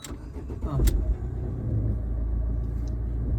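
A car engine starts and settles into a steady idle during a driving lesson, a low rumble that swells near the start and then holds even and close.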